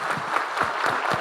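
Theatre audience at a live podcast birthday show in Rio de Janeiro applauding, a brief dense burst of clapping at steady volume with no speech over it.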